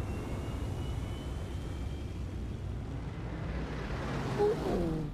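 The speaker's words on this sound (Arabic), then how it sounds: "الطائرة دي بتعمل ايه؟" Airplane in an Xbox Game Studios video game set over desert, a low, steady engine rumble and airy roar that holds evenly and swells slightly near the end, with no talk.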